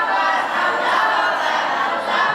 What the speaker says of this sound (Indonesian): Tepuk tangan sekali lagi buat Ibu tahun lahir baru.